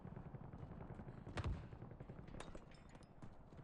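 Gunfire in the Modern Warfare 4 beta, a busy mix of shots with one louder, closer burst near the middle over a steady game background.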